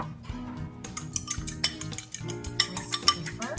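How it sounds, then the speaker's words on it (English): Two eggs are whisked with a fork in a bowl, giving quick, irregular clinks and taps of metal against the dish, close by and fairly quiet. "Whisk with a fork."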